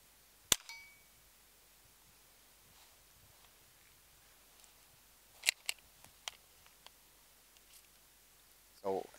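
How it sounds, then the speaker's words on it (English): A Simunition paint round fired from a pistol gives one sharp crack early, followed later by a cluster of metallic clicks and clacks as the gun is handled, in a quiet setting. "So let's fire one more round and then I'll take it apart."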